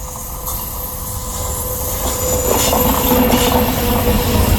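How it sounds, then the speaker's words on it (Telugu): A train runs past on railway tracks close by, a loud continuous rumble with rising wheel squeal and rhythmic clatter that builds across the whole stretch, with no voices. "ట్రైన్ అయితే వచ్చేస్తుంది ఫ్రెండ్స్"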